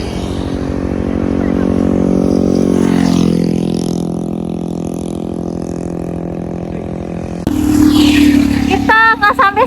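A motorcycle engine hums steadily while riding through Aceh, a loud mid-pitched drone that rises and falls slightly. Near the end it turns harsher and more broken, and faint wind noise runs underneath.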